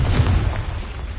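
A Confringo spell explodes in Hogwarts Legacy as a short, deep, rumbling boom that fills the moment and then fades into a low roar.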